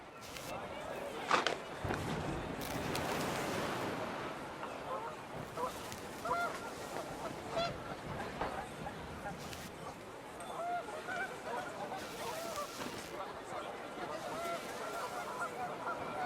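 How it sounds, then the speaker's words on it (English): Panicked geese honk in the game What Remains of Edith Finch, scattered calls over gusting wind and hurried footsteps, with a voice talking throughout. "The wind picked up, and panicked geese appeared and quickly went."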